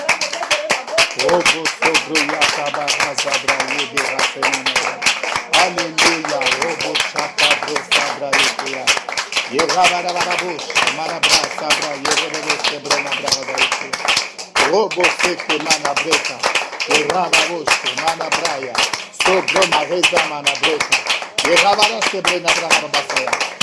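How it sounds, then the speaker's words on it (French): A congregation at a French-language Christian worship service claps loudly and continuously in a dense rhythmic patter, with voices singing and calling out over the clapping throughout. "Nous voulons les bénir par des acclamations"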